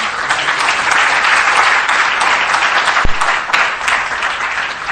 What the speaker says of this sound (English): a round of applause again for Honorable Isaac Adongo